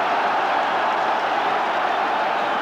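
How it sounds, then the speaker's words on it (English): Football crowd at an Ipswich Town match against Widzew Lodz, a broad steady roar of cheering voices filling the stadium, loud and constant without breaks. "Crowd really behind Ipswich here"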